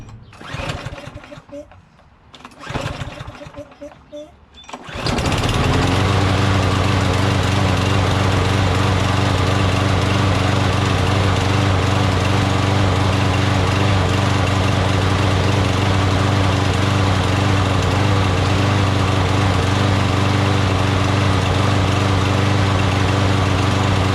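After a few seconds of uneven sputtering and cranking, the engine of a Craftsman LT2000 lawn tractor, left a year in a shed with gas in it, catches and runs with a loud, steady drone close by.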